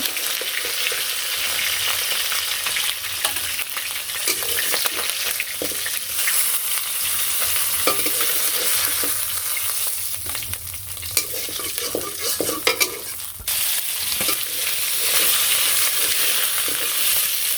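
Snakehead fish pieces fry in hot oil in a wok, a constant loud crackling sizzle with occasional scraping and stirring as the pieces are turned, continuing steadily throughout.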